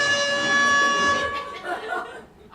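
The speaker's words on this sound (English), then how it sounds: "Put away the air horn." An air horn blares loudly with a steady, harmonic-rich tone, then cuts off into laughter and voices.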